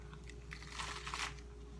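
Bites are taken from Popeyes and Chick-fil-A chicken sandwiches on a lettuce-style bun, giving a cluster of close, crisp crunching and chewing sounds over a low background hum, with no talk.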